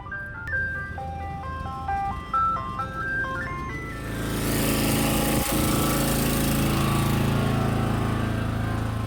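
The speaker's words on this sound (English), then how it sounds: "you hear the ice cream truck coming" On a street in La Paz, Mexico, an ice cream truck plays its stepping electronic jingle for several seconds before a loud, close engine roar takes over and drowns out the melody.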